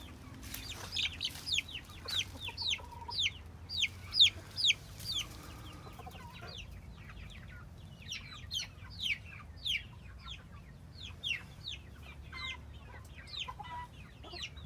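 Chickens cluck and a rooster calls in a backyard flock, a steady run of short, bright bird calls clustered near the start and then thinning into scattered clucks over a low background hum.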